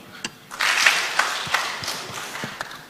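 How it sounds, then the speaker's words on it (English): An audience at a conference plenary session claps briefly, a soft scattered patter of hands that swells for a moment and then thins out into a few separate claps. "Okay. Clap."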